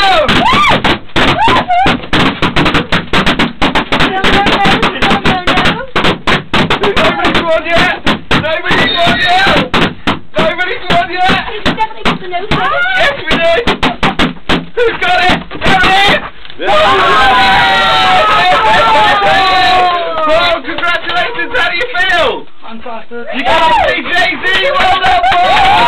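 Rapid, dense bursts of many balloons being popped in a radio studio, sharp cracks rattling almost continuously amid shouting and excited voices.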